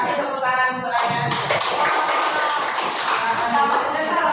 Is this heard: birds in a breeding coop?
no